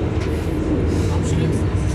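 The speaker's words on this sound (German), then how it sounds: "immer wenn ich rede, dann wird der Zug laut" Loud, steady rumbling roar heard from inside a moving train in Germany, a dense broadband wash of rail and wheel noise that fills the whole span without letting up.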